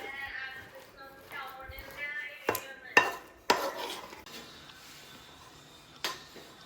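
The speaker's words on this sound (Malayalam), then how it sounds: "അതിനുശേഷം നല്ലോണം ഇളക്കി എല്ലായിടത്തേക്കും മിക്സാക്കി കൊടുക്കണം" Jaggery-coated banana for sharkara varatti is stirred in a pan, giving sharp scraping knocks and clinks of a spoon against metal, with a voice talking early on between the strokes.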